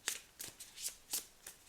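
Small tarot cards riffled in the hand, five quick shuffling bursts in a steady rhythm, close and soft, with no voices.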